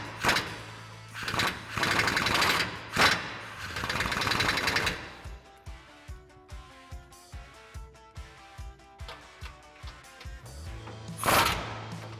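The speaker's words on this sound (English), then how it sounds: "So we'll grab our 24mm socket to get these out." A 24mm socket comes off the rear bumper nuts of a 2021-2023 F-150. A few seconds of rough, buzzing power-tool bursts lead into a steady run of evenly spaced clicking pulses, then a final short burst, all close up with no speech.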